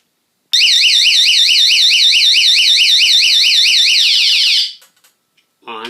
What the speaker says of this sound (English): if we switch that on to alarm, it gives you a couple seconds to hang it on your doorknob